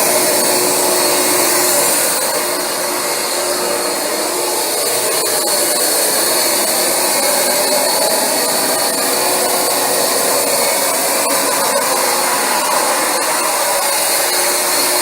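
A Rug Doctor X-3 carpet cleaner runs continuously, a loud steady motor whine and suction roar over carpet without speech.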